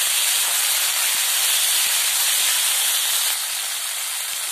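Ginger garlic paste sizzling in a hot pan, a loud, dense, continuous hiss that holds steady throughout and eases slightly near the end.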